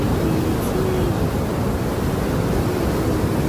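Broad, steady rush of river water pouring out toward the Hooghly at the Farakka barrage, a continuous loud roar with wind buffeting the microphone and no break across the few seconds.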